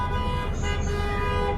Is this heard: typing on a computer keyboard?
no